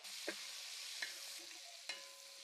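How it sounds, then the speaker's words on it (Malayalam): Steady hiss of small shallots frying in a pan, with a few sharp clinks of a spoon stirring at intervals. "ഇനി ഇതിലേക്ക് ചെറിയുള്ളി ഇട്ട് കൊടുക്കാവേ."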